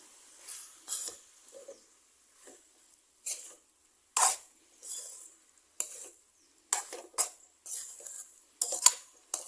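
Spoon scraping and knocking against a pan as cooked dal is mixed into stinging nettle thoran, a run of short, separate clinks and scrapes at irregular intervals, close and fairly quiet, with no talking.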